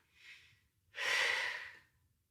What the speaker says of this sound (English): as long as you're just breathing in a controlled manner